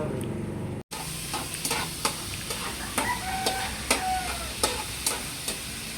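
Ginger sizzles in a hot pan with spices, a steady fry broken by sharp clinks and scrapes of a spoon stirring, close by, after a brief dropout at the start.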